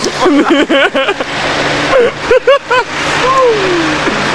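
A car doing a burnout in the Aleșd town centre, its engine revving hard in loud, close bursts that rise and fall, with people talking nearby.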